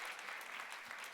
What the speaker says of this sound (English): Give these partners a round of applause,